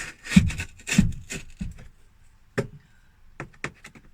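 A dull knife cuts through cardboard in a few rough, scraping strokes close by, followed by sparse sharp taps and quieter rustles.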